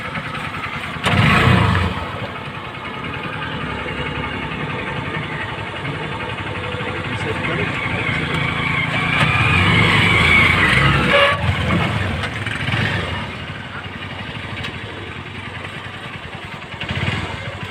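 A motorized tricycle engine runs nearby at night, a continuous rough rumble that swells and fades as it idles and revs, with brief louder bursts and no speech over it.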